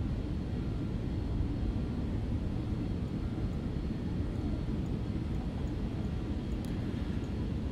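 BAe 146 airliner in a flight simulator, a steady, dense broadband engine and cabin roar that holds constant and loud throughout with no talking.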